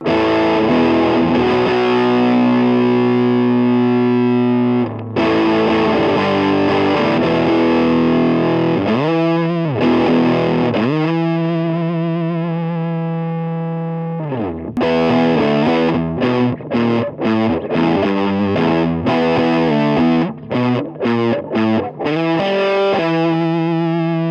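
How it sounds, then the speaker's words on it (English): Electric guitar played through a Russian Big Muff reissue fuzz pedal into a 1970s Dallas Arbiter Lead 100 solid-state amp, thick and bass-heavy with sustained fuzzy chords, a long ringing note, then choppy staccato stabs, loud and alone. "I've got a Russian Big Muff reissue here, and we'll see how that sounds"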